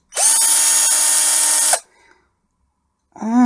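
A cordless Aldi Ferrex drill fitted with its large battery spins up at high speed for about a second and a half, a loud steady whine, then winds down before starting again briefly at the end.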